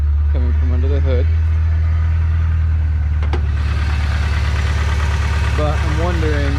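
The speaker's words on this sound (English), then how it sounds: "tick coming from under the hood." An Eagle Talon engine idles with a rod bearing tick, a loud, steady low rumble carrying a fast, even ticking rhythm throughout. Someone speaks briefly over it at the start and again near the end.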